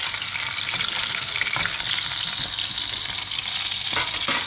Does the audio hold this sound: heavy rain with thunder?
no